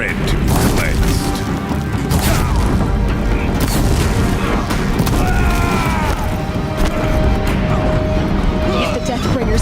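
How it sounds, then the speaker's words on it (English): Deathbringer war machines fire in the video game Horizon Zero Dawn, a loud continuous barrage of booms, crashes and mechanical clatter with whirring tones running throughout, close and dense. "If the Deathbringers keep firing, this bridge will go."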